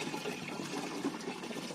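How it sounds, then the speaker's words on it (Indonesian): Muddy rice paddy water pours into a farm sprayer tank in a soft, continuous gurgling stream, faint and close, with no talking. "ini air sawah yang saya campurkan. Kita masukkan di sini"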